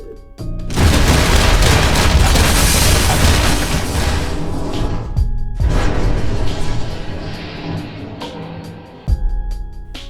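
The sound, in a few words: gunshot sound effect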